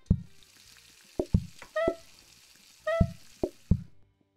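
Bacon cooks in the PlateUp! cooking game, heard as short game-style bursts of sizzling and frying chirps, several separate cues spaced across the moment with quiet gaps between.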